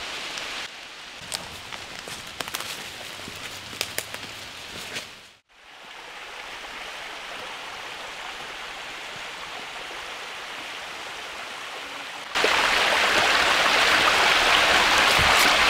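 A forest waterfall and stream flow steadily as a broad, constant rush of water. A brief dip partway through is followed by a louder, brighter wash of water near the end.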